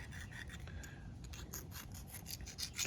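An aluminum piece scraped across coarse concrete to smooth a cut edge, giving quiet, rapid rasping strokes in a steady back-and-forth rhythm with no voices.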